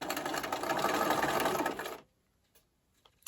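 A sewing machine stitches quilt fabric at a steady, fast, close-up whir, then stops abruptly, leaving near silence with a few faint clicks.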